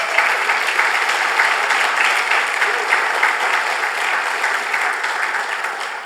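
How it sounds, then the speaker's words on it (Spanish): A church congregation bursts into loud, sustained clapping for the Lord, a close, dense wall of applause that stays strong throughout with a slight easing at the end. "Den un aplauso fuerte al Señor."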